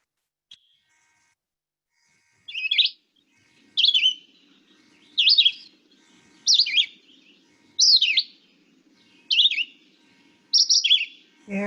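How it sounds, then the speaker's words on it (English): A red-eyed vireo sings short, clear phrases, about seven of them spaced roughly a second apart, each a bright slurred whistle, loud and close against a quiet background. "Red-eyed vireo."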